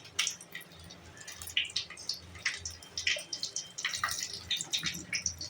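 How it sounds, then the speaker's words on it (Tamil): Mustard seeds, urad dal and a little cumin splutter in hot sesame oil, giving faint, scattered crackles and pops in irregular bursts with quiet gaps between them. "கடுகு, உளுந்து, கொஞ்சமாக சீரகம் பொரிஞ்சிச்சு"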